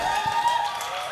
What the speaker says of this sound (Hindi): तालियां बजती रहें, तालियां, तालियों के साथ फोटो ले भाई